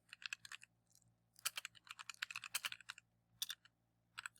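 Typing on a computer keyboard, heard as quick clusters of soft, close key clicks with short pauses between bursts, faint and with no talking.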